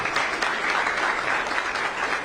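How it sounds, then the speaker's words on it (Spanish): An audience applauds in a dense, even burst of clapping that runs steadily from start to finish with no voices standing out. "Otro aplauso."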